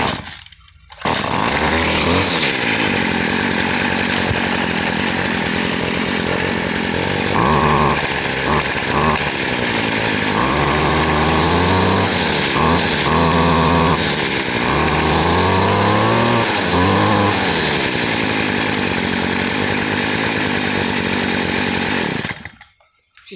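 A Stihl FS56RC string trimmer, cold and not yet run that day, is started and runs continuously for about twenty seconds, loud and close. Its engine revs up and drops back repeatedly as the throttle is worked, then cuts off at the end.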